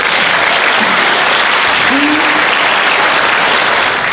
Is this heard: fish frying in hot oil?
no